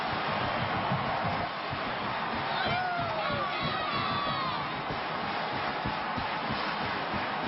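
Football stadium crowd at Texas versus Nebraska in 2007 roaring after a Texas score, a dense, sustained wash of cheering and shouting, with a whistle-like call rising briefly midway.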